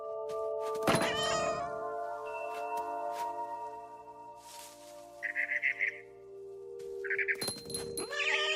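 A cat in the video game What Remains of Edith Finch lets out a loud, drawn-out meow near the start and another late on, close and clear, with brief bird chirps and soft thuds in between over a quiet ambient hum.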